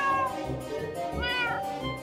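An aggressive cat meows in long, drawn-out wails over a steady background of music and noise, fairly loud and close.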